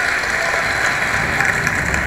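Audience at a cabaret show in MSG, New York, applauding continuously; dense, steady clapping throughout at a loud, even level with no pauses.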